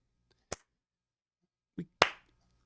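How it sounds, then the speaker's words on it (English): Three sharp hand claps, loud and close, with a lone clap first and then two in quick succession after a pause, in an otherwise quiet room. "I'm just going to clap again for fun"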